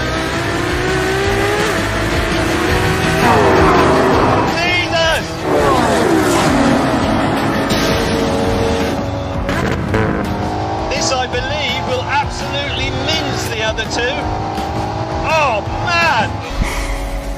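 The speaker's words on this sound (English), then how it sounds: "This is what 950 horsepower feels like." A 950-horsepower hybrid hypercar accelerates hard in the desert, its engine note rising in repeated sweeps through gear changes, loud and close, with people talking over it throughout.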